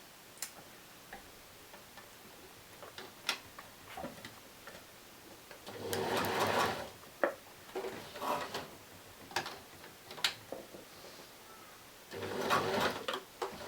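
A sewing machine stitches fashion doll tights in quiet bursts of rapid mechanical ticking, separated by pauses, soft clicks and handling noises, with no one talking.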